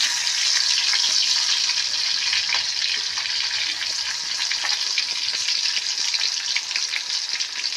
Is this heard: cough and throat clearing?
no